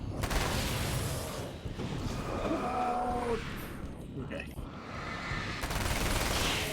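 Rapid SMG bursts in the action game Alan Wake's American Nightmare, dense crackling fire in several volleys with an explosion-like boom, mixed with a voice talking over the shooting.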